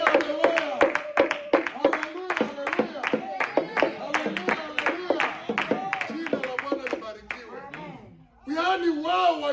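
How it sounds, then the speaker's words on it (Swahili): A church congregation claps and ululates in celebration during a Swahili sermon, with rapid, dense clapping and high trilling cries layered over one another, loud and close throughout. "Tabia Yesu makofi na vigelegele."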